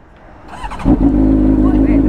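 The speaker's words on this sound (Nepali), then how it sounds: "अब बाइक स्टार्ट गर्दैछु ल सुन साउन्ड" A Honda CBR600RR motorcycle engine cranks and catches, then settles into a loud, steady, close idle with a rising rev, after some faint voices in the quieter moments before it starts.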